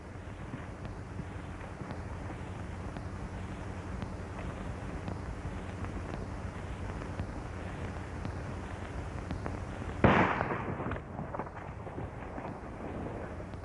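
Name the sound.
gunshots in a western film shootout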